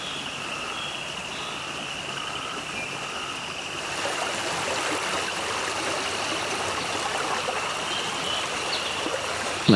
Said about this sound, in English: the sounds of the water and the peaceful nature are accompanying our exploration the whole time